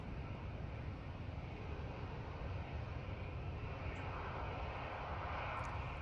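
Lufthansa airliner in Star Alliance livery arriving at a gusty Manchester Airport, a steady, distant engine roar blended with broadband wind rumble, fairly faint and even throughout.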